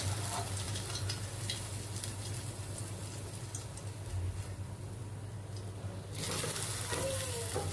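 Fried gulab jamun are stirred in hot sugar syrup in a pan, giving a soft continuous bubbling sizzle with faint scraping, which swells louder near the end.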